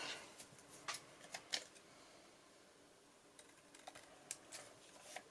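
Scissors cut paper in quiet, crisp snips, a cluster early on and another near the end, with a pause in between, faint and close against low room noise.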